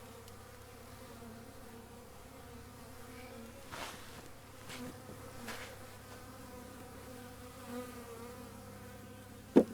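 A honey bee cluster inside a winter hive buzzes steadily and close, a dense continuous drone with a few louder passes of individual bees and a brief knock near the end.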